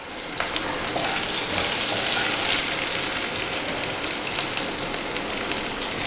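Chopped shallots and curry leaves sizzle in hot oil for a coconut chutney, a steady, loud crackling fry with small pops that continues evenly throughout.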